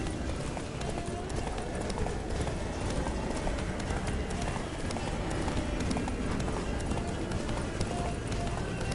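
Horse hooves galloping as Geralt rides Roach in The Witcher 3 around Toussaint, a dense rapid clip-clop running continuously under a loud wash of game ambience and noise.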